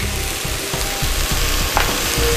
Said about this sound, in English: I'm going to saute this all up.